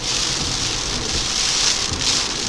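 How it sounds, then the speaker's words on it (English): Steady, heavy rain from a Mediterranean storm, Medicane Ianos, in Kefalonia, Greece, hisses continuously on a surface nearby, a dense even wash of drops with no voices. "And today the weather has gone completely stormy"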